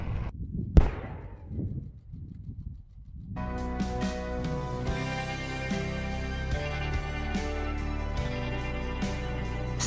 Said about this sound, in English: The bomb was laid to the deep pit to reduce the spread of fragments. Then the shell was mined and detonated.